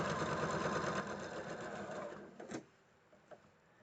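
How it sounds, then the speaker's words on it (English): A sewing machine stitches fabric in a quick, steady whirring run for a couple of seconds, then stops, leaving a few soft clicks and handling sounds. "So now it's tipped up and I can stitch the other side."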